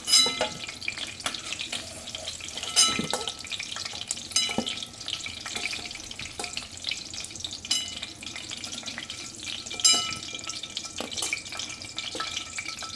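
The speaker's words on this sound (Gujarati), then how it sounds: "આપણી ડુંગળી સરસ ફ્રાય થઈ ગઈ છે" Onions sizzle softly frying in oil while a utensil scrapes and clinks against the pan now and then.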